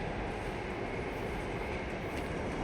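A metro train passes overhead on an elevated line, giving a loud, continuous rumbling roar with no pauses across the short clip.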